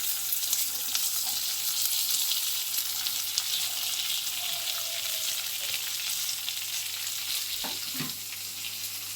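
Small and big onions frying together in a pan for mutton curry, a steady broad sizzle running throughout with faint stirring scrapes near the end.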